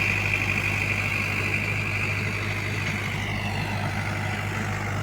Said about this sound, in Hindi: और ट्रैक्टर की आवाज़ से भी आप लोगों को पता लग रहा होगा